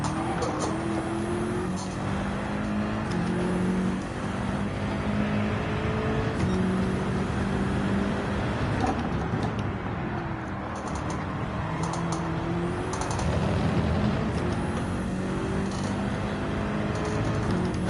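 Racing car engines in Gran Turismo 7 during a GT3 Open lobby sprint race, with steady whining engine tones rising and falling through gear changes, plus a Porsche running close behind, under light keyboard clatter.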